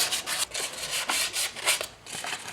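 A front brake hub on a Peugeot 206 CC being sanded by hand with 400-grit sandpaper, a close, rhythmic back-and-forth rubbing with short strokes and brief pauses, and no talking.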